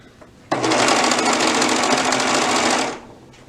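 A sewing machine running along a hip-to-back seam on a pair of pants starts abruptly and runs at a steady fast rattling pace for about two and a half seconds before winding down, close and loud.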